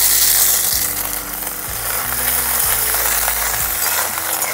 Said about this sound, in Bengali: আদা, কাঁচা লঙ্কা আর কারি পাতা খুব সুন্দর করে ভেজে নিয়েছি। এই পর্যায়ে দিয়ে দেবো মটরশুঁটি।